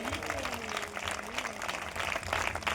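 A church congregation claps hands together in praise during a sermon, a rolling mass of clapping with a voice talking and singing over it.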